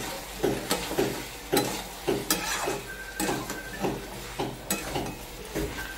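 Ginger, dried red chilli and garlic paste stir-fried in a pan for a thin home-style mutton curry, with a spoon scraping and clinking against the pan in a steady repeated rhythm over a soft background sizzle.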